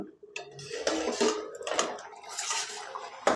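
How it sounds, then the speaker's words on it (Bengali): A metal plate lid lifted off a pot of river crab curry with potatoes, a few close clinks and scrapes of metal on metal, then a sharp final clank. "এবার আমি ঢাকনা খুলে দেখে নেবো আলুগুলো সিদ্ধ হয়েছে কিনা"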